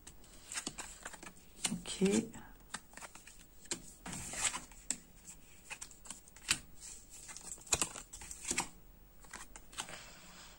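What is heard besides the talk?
oracle cards being turned over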